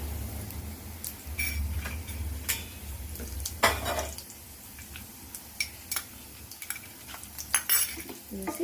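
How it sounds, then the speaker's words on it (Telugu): Dried red chillies fry in an oiled pan while making tomato chutney, with a soft sizzle under repeated clinks and scrapes of a metal spoon stirring against the pan. "ఇప్పుడు ఎండుమిరపకాయలు కూడా వేయాలి."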